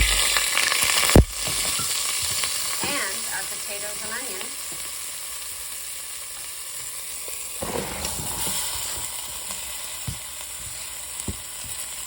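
A steady hiss of half a cup of chicken stock sizzling in a hot pan fills the clip, with a sharp clank near the start and a brief spoken phrase partway through.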